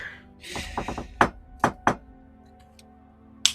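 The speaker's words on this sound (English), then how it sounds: "Knock, knock, knock." Three sharp knocks on a door land close and loud in uneven succession, after a brief muffled bump, then one more knock follows after a pause.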